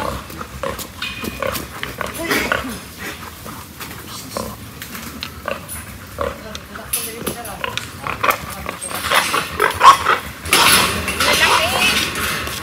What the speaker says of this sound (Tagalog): Lalaki ng mga baboy.